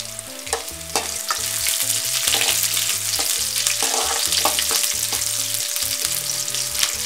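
Onions and green chillies sauté in a pan for broken wheat upma, giving a steady, close sizzle broken by repeated spatula stirs and scrapes.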